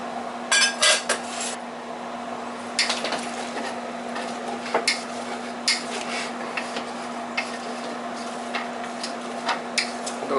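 A utensil stirs black beans, garlic and hot peppers in a soup pot, giving scattered light clinks and scrapes over a steady kitchen hum, with no talk.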